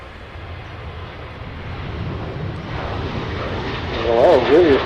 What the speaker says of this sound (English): Really a short take-off there.